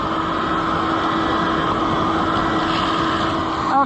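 A shop vac runs steadily on a New Holland 352 sheller attachment, giving a loud, constant motor drone with a steady whine throughout and a brief bump near the end.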